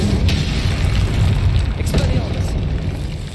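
In Hogwarts Legacy, a Confringo spell explodes with a loud, deep boom, then a rumbling blast with crackling bursts layered over it, and battle noise continues underneath.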